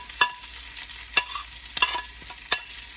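Onions are sautéed in a pan for a home-cooked vegetable dish. Close, sharp spatula clinks and scrapes strike about five times over a faint, steady sizzle, with no talk.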